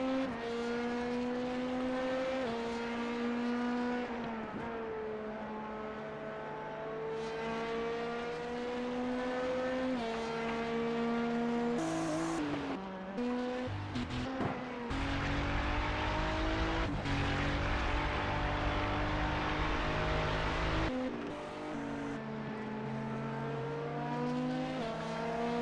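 GT3 race car engines howl through gear changes around Spa in iRacing, a loud continuous near engine note rising and dropping with upshifts and braking, plus a burst of rough scraping noise mid-lap.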